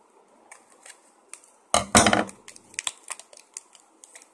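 Scissors snipping through plastic toy packaging on a pony toy, a burst of loud crinkly cuts and crunches followed by a run of lighter, rapid clicks and snips, close by with no talking.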